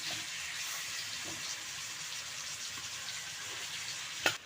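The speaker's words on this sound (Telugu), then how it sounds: "ఓకే ఇప్పుడు ఆయిల్ వేడైంది ఇప్పుడు మనం మ్యారినేట్ చేసి ఉంచిన చికెన్ని ఇందులో వేస్తాను" Marinated chicken frying in hot oil for biryani, a steady close sizzle and crackle throughout with a brief louder clatter near the end.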